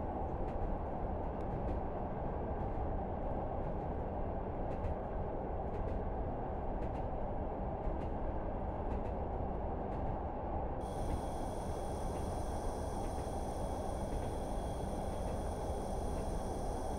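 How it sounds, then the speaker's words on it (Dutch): An old Class 105 diesel-mechanical train runs steadily on rails, with loud, continuous rumble and clatter from inside the carriage and faint rhythmic rail clicks; a high whine joins partway through. "Dit is een echt ouderwetse trein."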